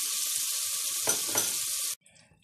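Four tablespoons of butter melting in a pan for béchamel, a bright, dense sizzle up close with a couple of stirring scrapes, cutting off abruptly after about two seconds.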